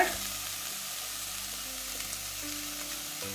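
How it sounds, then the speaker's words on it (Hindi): Paneer pieces roast in a hot pan, giving an even, moderate sizzle with only faint stirring, heard up close and with no talk. "ये देखो ये रोस्ट होने लग गया, इसी तरह ये सारे पीसेस थोड़े थोड़े रोस्ट होने लग गए।"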